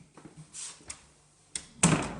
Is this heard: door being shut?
yes